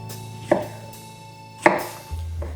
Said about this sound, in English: you're gonna cut it into strips